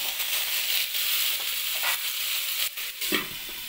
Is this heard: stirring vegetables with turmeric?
yes